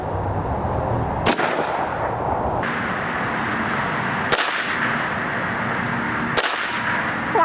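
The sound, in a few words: SKS rifle gunshot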